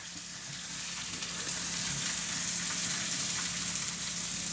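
Steak sizzles steadily in an oiled pan with burning seasoning, a dense continuous frying hiss at moderate level with no talk.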